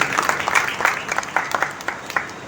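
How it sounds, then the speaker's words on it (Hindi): A crowd at a Durga Mata temple gives loud, steady applause, many hands clapping together for a couple of seconds. "एक जोरदार ताली मार देना।"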